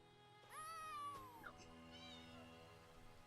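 A cat meows in Elder Scrolls Online, one long drawn-out meow followed by a shorter second call, clear and close over a steady game music background.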